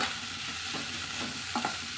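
A spoon scrapes and stirs country bitter gourd frying in ghee in a pan, with a few short scraping strokes over a steady low sizzle.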